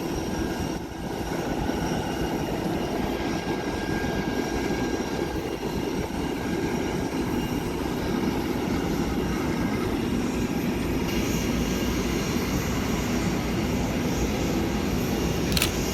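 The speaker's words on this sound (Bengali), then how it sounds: "বিমানটি আস্তে আস্তে টার্ন আউট করে ট্যাক্সি করতে শুরু করেছে" An air ambulance medical jet turns slowly and begins taxiing after refuelling at an airport, its engines producing a loud, steady, close roar and whine that holds evenly throughout with no voices.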